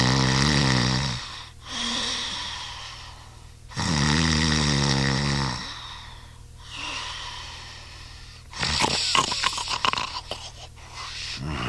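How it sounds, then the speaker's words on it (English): Mr. Grumble snores in bed at night, with three long, rasping inhaled snores separated by quiet pauses, followed by a burst of snorting and spluttering breaths, close and loud with no talk. "but not without snoring"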